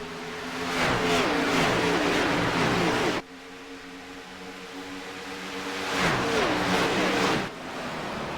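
Stock cars race at Homestead Miami in the iRacing video game, their engines roaring loud and steady, easing off briefly mid-clip before surging back as the pack passes close.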